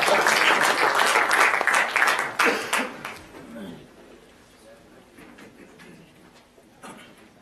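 Audience applause in a conference hall at a plenary session on grassroots sport, loud and dense for about three seconds, then quickly dying away to scattered faint claps and room noise.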